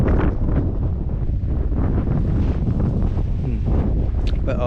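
Strong gusts buffet a microphone on a boat in heavy wind, producing loud, continuous low-frequency rumbling and flapping that swamps everything else, with faint voice-like sounds buried underneath.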